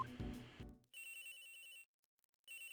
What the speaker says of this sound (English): Ring, ring, ring, phone call.